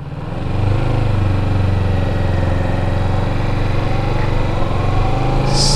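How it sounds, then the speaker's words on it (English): A Kawasaki Ninja 650 motorcycle engine runs steadily under light throttle while the clutch is feathered out, a close, continuous low engine drone holding an even level without talk. "Give it just a little bit of throttle while you feather out your clutch."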